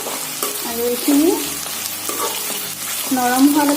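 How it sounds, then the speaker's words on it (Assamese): Onions sizzle and crackle in hot mustard oil as they are stirred in a pan, a close, busy fry with faint tonal sounds in the background. "তাৰপিছত ইয়াতে আমি পিঁয়াজখিনি ভাজি ল'ব লাগিব"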